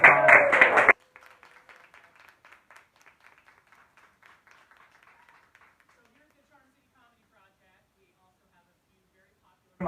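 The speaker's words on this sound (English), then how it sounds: "Let's give him a big round of applause." An audience at a live talk show in Hampden applauds in a loud burst for about a second. The clapping then thins into scattered, faint claps that die away into near silence.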